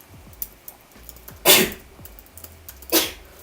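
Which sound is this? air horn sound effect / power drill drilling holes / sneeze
sneeze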